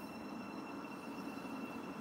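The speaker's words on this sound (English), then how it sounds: "The buzzers are sounding and the doors are closing. And away it goes." Train rolling away from a station platform, a steady, fairly faint rumble of wheels and carriages with a thin high whine, continuous and even throughout.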